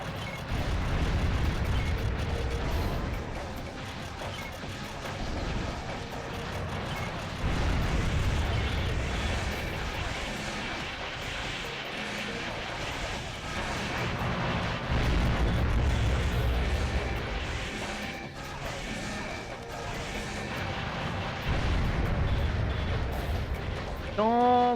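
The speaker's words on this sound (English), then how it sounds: "Fire missiles." Missiles fire and explode in the Armored Core 2 video game, a dense barrage of booming blasts and rumbling bursts that swells and recedes repeatedly over a continuous noisy battle bed.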